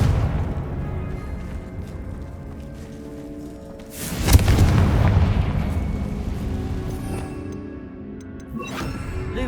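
Confringo spell blast in the Hogwarts Legacy video game: a single loud, booming explosion bursts out midway and rumbles on, decaying slowly over a low ambient background.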